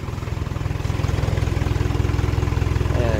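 Freshly overhauled Isuzu 4HF1 diesel engine idling steadily up close, a loud, even low-pitched chugging with a rapid regular knock throughout, no voices.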